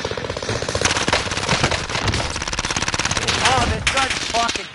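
Rapid automatic gunfire from a gun in a Call of Duty match, loud, close bursts chattering almost continuously, with a brief voice near the end.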